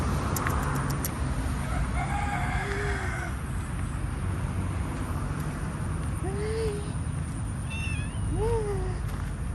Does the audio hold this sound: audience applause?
no